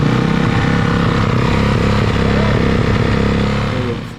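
A 500 CR motorcycle engine starts and runs loud and steady throughout, with a rough mid-range rumble and slight revving before it drops off at the end.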